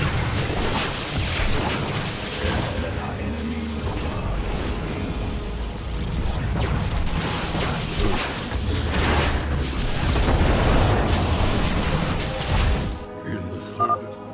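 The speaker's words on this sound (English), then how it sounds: "You've destroyed another cannon" In a StarCraft 2 Legacy of the Void battle, a cannon is destroyed amid a dense, continuous roar of explosions and gunfire, loud and sustained before dropping off abruptly near the end.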